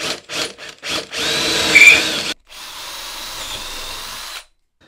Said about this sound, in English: now drill through on that center point